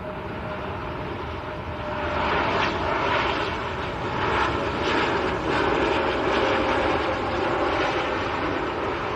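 An airliner arriving from Palma, Mallorca, roars past at Manchester Airport, its engine noise a loud broad rumble and whine that swells and holds steady throughout, heard alone without talk.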